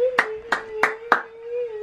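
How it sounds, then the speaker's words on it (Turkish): Four sharp hand claps ring out at an even, unhurried pace, close and distinct, over a steady sustained hum, then the clapping stops. "alkış. Alkış."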